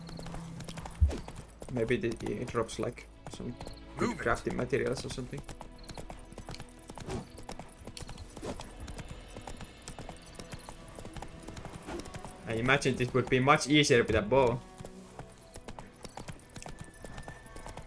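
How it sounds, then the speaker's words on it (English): Roach the horse in The Witcher 3 gallops with steady clip-clop hoofbeats throughout, rising in bursts of louder, closer hooves, while someone talks over the rhythm. "Just chasing them down with a horse."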